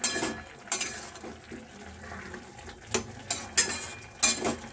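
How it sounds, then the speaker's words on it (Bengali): Vegetables and spinach being stirred with water in a pot, with irregular clanks and scrapes of the utensil against the metal and soft watery sloshing between them, close by and fairly quiet. "জল দিয়ে ভালো করে আমি নাড়াচাড়া করে নিচ্ছি।"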